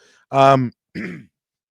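Two short, close throat-clearing grunts, a longer one followed by a brief second, then silence.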